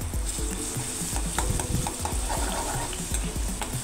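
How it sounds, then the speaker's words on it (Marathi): Garlic frying in hot oil in a kadhai for a tempering in village-style okra amti: a steady, close sizzle with stirring scrapes and clinks running throughout, no talking. "आता त्याच्यामध्ये आपण थोडासा लसूण टाकू आपला फोडणीला"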